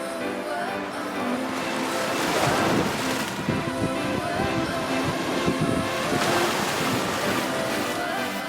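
Ocean waves break and wash continuously onto a beach near Sechelt, BC, a steady loud surf roar with wind buffeting the microphone and no voices.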